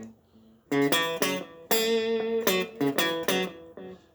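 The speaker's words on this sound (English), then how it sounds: "now I'm going to do it with the echo on again because I think it sounds cool." Electric guitar riff of plucked notes and held chords, each note trailing into repeating echoes from a delay effect, played alone and clearly.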